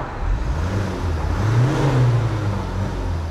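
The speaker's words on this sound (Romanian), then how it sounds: "Și vrei să turezi, dar n-ai cum să turezi, decât pe, pe neutru." A car engine revs in neutral with a rising, sustained whir, loud and close, with no talking.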